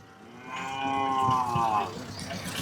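Bull mooing at the Kangeyam native cattle market, one long, loud, close bellow that swells and then fades over busy market background noise.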